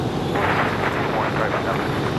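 A CRJ regional jet climbing away on departure at Raleigh-Durham airport, a steady broad engine roar filling the short stretch, with a voice murmuring over it.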